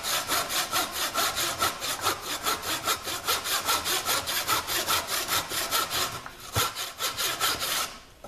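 A hand saw cuts through MDF board in quick, rhythmic back-and-forth strokes, close and loud, with a brief pause near the end before the stroking stops.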